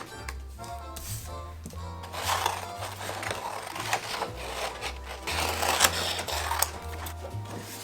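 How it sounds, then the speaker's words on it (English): A home printer runs off a page in a craft studio with a continuous mechanical whir and rapid clicking feed, fairly close and moderately loud, while background music plays. "I am printing the last page"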